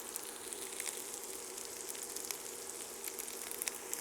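Vegetables sizzle in a pan while cooking for keto baked beans, giving a soft, continuous crackling hiss with tiny pops, fairly quiet and even.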